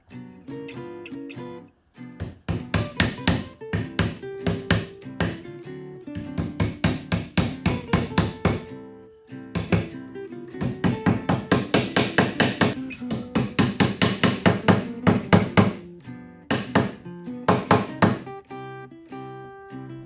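Small pegs cut from 19mm wooden dowel are tapped into screw holes on a wooden base, giving sharp, close knocks in quick rhythmic bursts with short pauses between runs.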